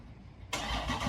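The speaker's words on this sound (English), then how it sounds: "the exhaust note on this car with this Corsa Extreme, dude, I mean, it's absolutely wonderful" A 2023 Dodge Charger Scat Pack widebody with a Corsa Extreme exhaust fires up after a quiet moment, its engine catching with a sudden loud burst that settles into a full, steady rumble.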